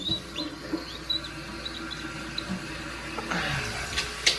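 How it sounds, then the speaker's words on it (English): Water refills a Toto dual flush toilet tank after the supply is turned back on, a steady close hiss and trickle with a few light clicks and splashes, no talking. "And now we can turn our water back on."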